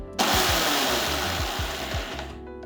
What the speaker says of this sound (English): Use the pulse mode just about 2 to 3 times to grind it into a nice coarse